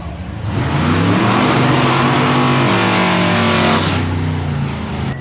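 A 1940 Chevy and a 1968 Camaro drag race at Atco Dragway, engines roaring loud and close as they rev and accelerate, rising harmonic tones climbing steadily, with the noise easing off near the end.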